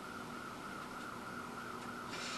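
An ambulance siren wails steadily at a distance, faint and continuous, with no voices over it.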